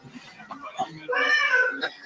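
A cat meows once in a drawn-out, wavering call near the middle, close and clear, with brief voice and background sounds around it.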